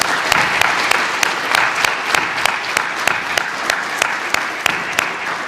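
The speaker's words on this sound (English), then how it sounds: "Let's give them a round of applause." An audience applauds at a South Carolina Highway Patrol basic class graduation. Loud, steady crowd clapping fills the hall, with sharp individual claps standing out in a regular rhythm.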